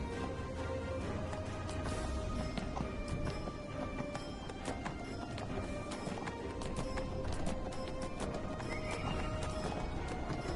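Pack horses in the video game Neverwinter clop along with rhythmic hoofbeats and let out repeated neighs and whinnies, close and busy throughout, with a few clattering knocks mixed in.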